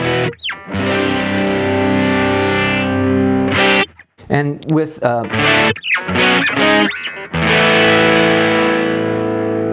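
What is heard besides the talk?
hex fuzz distortion, higher guitar strings more distorted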